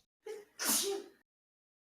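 A single sharp sneeze with a quick inhaled build-up, close and loud, followed by silence.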